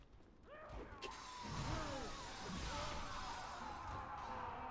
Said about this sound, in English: all they hear is just a saw revving up